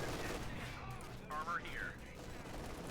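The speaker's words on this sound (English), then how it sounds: "Firing up the machine gun there." Machine-gun fire in Company of Heroes 2 plays as faint, rapid bursts under a caster's continuous commentary, mixed with other battle noise.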